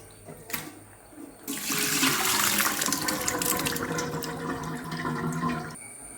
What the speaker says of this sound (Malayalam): അതിനകത്തേക്ക് വെള്ളം ഒഴിച്ച് നന്നായിട്ട് കൈ കൊണ്ട് തിരുമ്മി കഴുകി എടുത്തിട്ട്